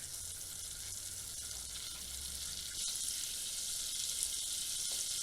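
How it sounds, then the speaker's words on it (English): Butter melting in a pan before flour goes in for a roux, a faint steady sizzling hiss that grows slightly louder about halfway through, with no talking. "Just going to melt that butter."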